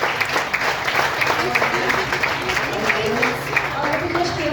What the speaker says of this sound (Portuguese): Aplaude ao Senhor Jesus